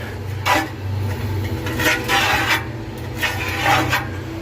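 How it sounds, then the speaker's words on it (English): A blade scores along the silicone seal of a 4x3x2 ft glass aquarium tank, giving repeated raspy scraping strokes in short bursts over a low steady background hum. "So I haven't scored the silicone on the bottom yet, so I'll score this side."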